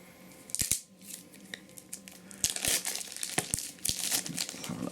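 Packaged Warhammer 40K cards being opened, with a plastic wrapper crinkling and crackling in several bursts and sharp snaps, close up and alone.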